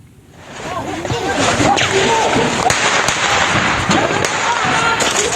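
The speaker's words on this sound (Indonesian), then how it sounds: "Tembakan gencar dan terus-menerus dari kendaraan militer dan juga drone quadcopter Israel menghantam rumah warga dan tenda pengungsi di lingkungan Zaitun, Gaza Timur" Heavy, continuous gunfire from Israeli military vehicles and quadcopter drones in Zaitun, eastern Gaza, crackles in repeated sharp bursts, partly under a voice talking over it.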